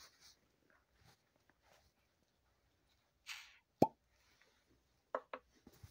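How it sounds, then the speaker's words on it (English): A small cork stopper pulled from a bottle of Alaskan rum from a Haines distillery, giving one sharp, close pop alone in a quiet room, with faint handling rustles before and after. "Get this little cork off of here."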